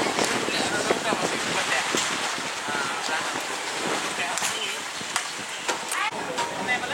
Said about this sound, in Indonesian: Masih cukup kuat angin.